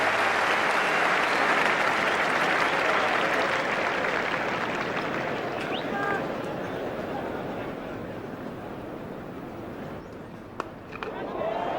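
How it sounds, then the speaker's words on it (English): Sustained crowd applause at The Oval during a 1992 England cricket Test match, loud at first and gradually fading over about twelve seconds, with a commentator's voice over it. "Great ovation here from this Oval crowd."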